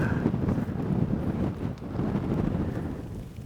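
Gusty wind roars across an open, lonely highway near salt flats, buffeting the microphone with a steady broadband rush that swells and eases slightly, with no voices.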